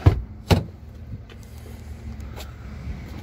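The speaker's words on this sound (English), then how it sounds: "we'll take down the seats so you don't have to go put them down in the second row" Rear seatbacks of a 2020 Chevrolet Blazer LT AWD folding down by handle: two sharp thumps close together at the start, followed by softer clicks and faint rustling in a quiet cabin.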